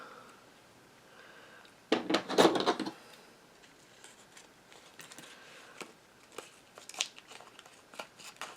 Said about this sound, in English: So then what I'm going to do is take this clear acetate. I'm going to cut it down so it's a little smaller than this piece.